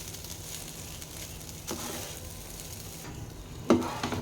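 Egg fried rice, street style, stirred and fried in a pan: a faint, steady sizzle with soft scraping stirs, and one sharper clatter of the utensil near the end.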